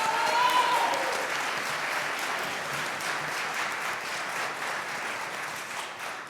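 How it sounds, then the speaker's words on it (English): A youth entrepreneurship challenge audience applauds its competitors with steady, dense clapping that fills the room. The applause stays at an even level throughout, with a brief cheer near the start. "Let's give all three of our competitors another round of applause"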